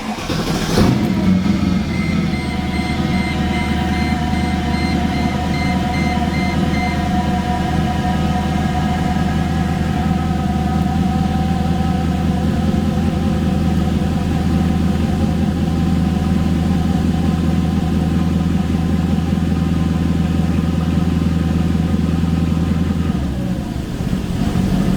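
A C55 engine fitted with intake spacers revs up loud and close, then settles into a steady, slightly uneven idle that drops off near the end, with no talking.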